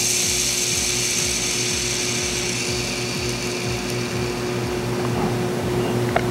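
A KastKing Zephyr BFS baitcasting reel fitted with ceramic hybrid bearings spins freely, giving a loud, steady mechanical whir with a fast repeating ticking texture that runs close and continuous throughout.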